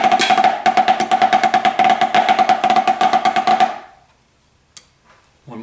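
A snare drum plays a run of rudiments: flams, flamadiddles and flam taps, in brisk, evenly spaced strokes with grace-note flams. The rapid, loud, close sticking stops abruptly after about four seconds, then near silence and a couple of faint knocks follow.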